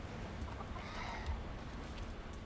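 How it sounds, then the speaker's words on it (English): A chicken in World of Warcraft gives soft, faint clucking, low in the mix beneath steady game background noise with no talking. "Was that a chicken I just heard?"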